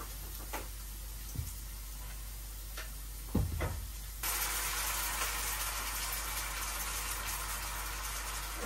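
Oil poured into a hot pan after frying brinjal, giving a steady broadband sizzle that starts abruptly and holds, preceded by a few soft kitchen knocks, heard close with no talk.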